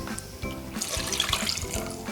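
Tap water running steadily into a measuring cup for soft Ga kenkey corn dough, a continuous splashing stream at close range with no voices.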